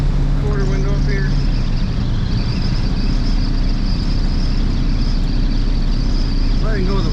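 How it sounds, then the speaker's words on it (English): Constant rushing wind noise from the quarter window of a 1965 Ford Mustang on the move, mixed with road and engine drone inside the cabin while someone talks. "A little bit of wind noise from this quarter window up here."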